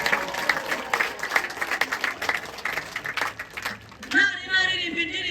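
An audience claps through a church-style gathering, a dense continuous wash of hands that swells and fades, while a voice speaks over it and, near the end, begins singing.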